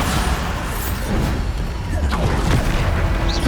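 Booming spell explosions from the Bombarda curse in Hogwarts Legacy, dense and continuous with rumbling low impacts and crashes layered over battle noise, loud throughout.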